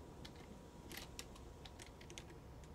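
Keyboard keys are tapped during play of the video game Amanda the Adventurer, a scattered run of faint, quiet clicks at an uneven pace over a soft steady background.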